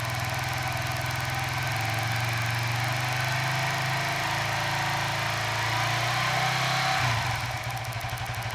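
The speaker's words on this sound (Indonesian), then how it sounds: "Ini mode hidup, saya gas." A Suzuki FU 150 FI motorcycle engine runs steadily and loudly up close, its buzzing note shifting slightly as it is revved and then changing pitch abruptly near the end.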